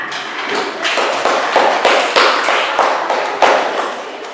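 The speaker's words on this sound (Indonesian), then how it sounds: "Tepuk tangan." A classroom of students claps for the top-scoring classmates, a mix of close, loud individual claps and sharp taps over a rolling background of applause, with no talking.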